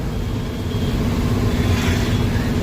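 An empty goods truck driving along the road, heard as a steady, loud low engine rumble with road noise throughout, unbroken and close.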